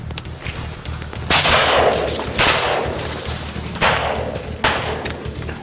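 Shotguns fire at a drake during a duck hunt in South Dakota, four sharp loud blasts spread over a few seconds, each trailing off with a short ringing decay over steady outdoor background noise.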